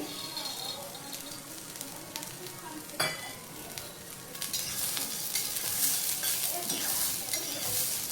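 Sweet corn chivda roasting in a pan, dry crackling sizzle with stirring scrapes and a sharp utensil clink, the frying growing denser and louder toward the end.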